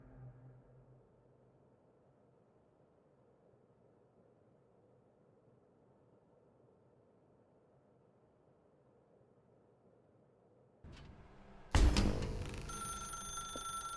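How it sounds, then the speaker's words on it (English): A telephone rings in The Stanley Parable game, a loud electronic ring bursting in near the end after a long stretch of quiet low room hum, with no talk. "Now pick up the phone."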